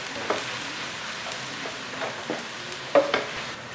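Homemade biryani masala, about two tablespoons, sautéing in a pan for chicken biryani, with a soft steady sizzle broken by several scraping stirs, a louder clatter near the end.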